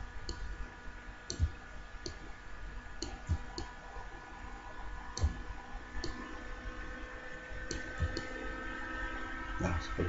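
Keys click on a computer keyboard during Photoshop editing, a scattered series of sharp, fairly faint taps at irregular intervals over a steady background hum.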